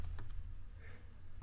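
Quiet, quick typing on a computer keyboard: a short run of soft key clicks, close and alone, with no voices.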